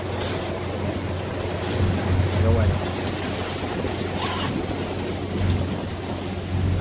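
Heavy rain pours on a cargo ship, the BBC Mississippi, at sea in a storm front, a steady dense hiss with a low drone underneath, while someone speaks briefly in Spanish.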